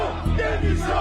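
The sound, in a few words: protesting farmers chanting and booing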